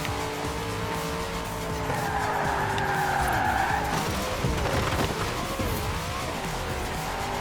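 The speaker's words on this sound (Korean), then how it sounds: "드리프트 방금 드리프트 한 거야" Car drifting in Forza Horizon 4, engine droning under a long, loud tire squeal and skid that rises mid-slide, then wavers as the car straightens out.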